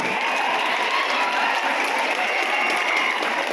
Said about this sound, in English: I want all of you to stand up, everybody, and clap for yourselves.